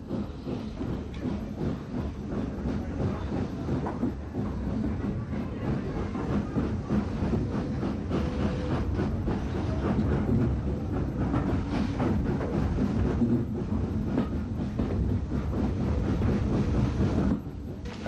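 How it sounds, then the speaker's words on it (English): Southern Railway N15X class 4-6-0 steam locomotive No. 32329 Stevenson at Brighton, a steady broadband rumble of engine and rolling stock with a constant hiss, continuous and fairly close, no voices. "N15X Class 460 32329 Stevenson prepares to work an enthusiast special to Brighton."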